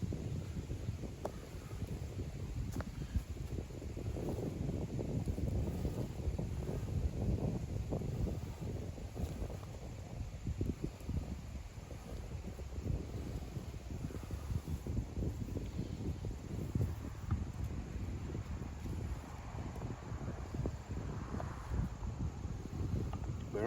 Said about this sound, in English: Oh, that wind is really kicking up.